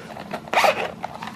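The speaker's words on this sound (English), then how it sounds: "I like it because it zips up" A quick zip pulled along a small sunglasses case, one bright rasping stroke close up against quiet room noise.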